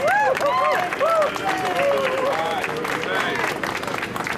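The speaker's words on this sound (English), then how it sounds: "Please give him a round of applause." A crowd at a press conference at Temple gives a round of applause: dense, steady clapping that fills the room, with a voice speaking over the start.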